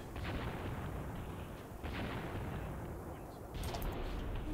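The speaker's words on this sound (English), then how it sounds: "There's artillery almost on the way in." Artillery fire in Graviteam Tactics: a continuous heavy rumble with booming swells, one around the middle and another near the end, distant and unbroken by voices.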